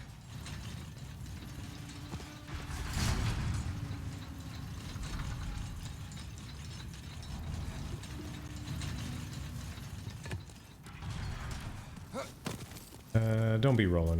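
An elevator mechanism in the Demon's Souls remake grinds and ratchets with continuous geared clatter, loud and close, then ends in a heavy clunk, with a voice talking over it.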